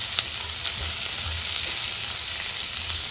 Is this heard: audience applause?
no